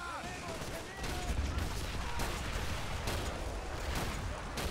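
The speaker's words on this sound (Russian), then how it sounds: "Выстрел из пака заставил взорваться Шерман." Game battle sounds in Men of War 2: rapid gunfire and a heavy anti-tank gun shot blowing up a Sherman tank with a booming explosion, muffled rumbling underneath, busy and continuous throughout.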